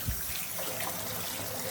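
Water runs down an open drain while mold and mildew stain remover is being rinsed away, a faint, steady trickling wash that continues evenly without speech.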